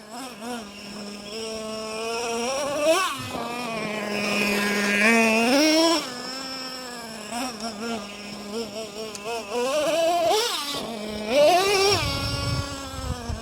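A nitro-powered RC truck engine revs hard on the throttle, its buzzing whine rising and falling in repeated surges and dips, loud and close throughout with no talking.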